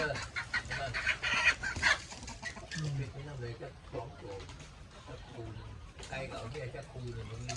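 Chickens cluck at a rural family cooking gathering, with frequent hen calls, some loud and close, mixed with people talking throughout.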